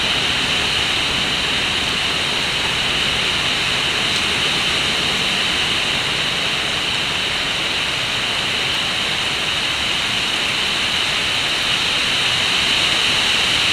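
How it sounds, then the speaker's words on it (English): Hurricane Matthew lashing Raleigh, North Carolina: a loud, steady roar of howling wind and sideways-driven rain, a dense unbroken wash of noise with no pauses. "Oh my goodness, the wind is really howling."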